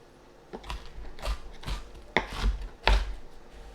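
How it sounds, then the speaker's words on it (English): Quarter of an onion being chopped with a knife on a board, five distinct sharp cuts at uneven intervals with soft scraping between, close and clear with no voices. "I'm just chopping them, so I'm taking this onion, it's kind of a quarter of an onion, and I'm chopping it into smaller sections"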